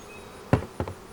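Honey bees around an open beehive, two short buzzing bursts as bees fly close past, then a faint steady hum.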